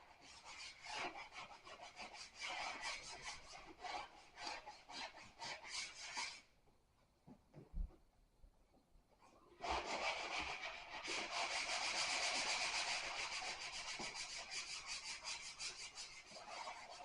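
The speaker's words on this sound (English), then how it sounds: "we just going to sand this down, get it ready for the texturing" A skim-coated wall patch is sanded by hand with repeated rasping back-and-forth strokes, close and steady, pausing for a few seconds midway before a longer continuous stretch of scraping resumes.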